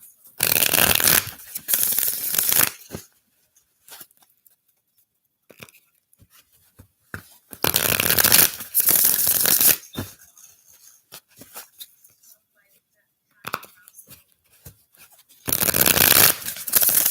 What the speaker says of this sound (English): I have to shuffle that one more time